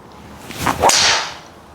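A TaylorMade R7 mini driver strikes a golf ball off the deck in a single sharp, close swish-crack followed by a brief airy whoosh as the ball flies away; no talking.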